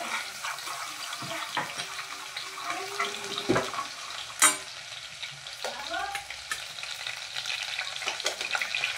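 Garlic frying in hot oil for a spicy Konkani-style fish curry, a steady close sizzle with occasional clanks and scrapes of a stirring utensil, no talking.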